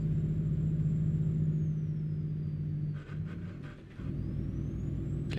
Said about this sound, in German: Er hört sich schon ein bisschen kaputt an, ne, der LKW.